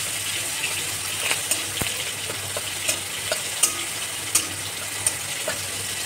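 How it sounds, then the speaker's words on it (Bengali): Dried red chillies and bay leaves sizzling in hot oil, a continuous loud frying hiss with scattered sharp pops and crackles spaced through it. "এবার তেলে ফোড়নে দেবো আমি শুকনো লঙ্কা"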